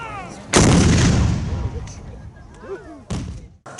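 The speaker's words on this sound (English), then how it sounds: "The guns of the fort turned to face the Union gunboats and opened fire" Civil War fort cannons open fire on Union gunboats in 1862 coastal North Carolina: one loud, close boom with a long rumbling decay, then a second sharp blast, under narration.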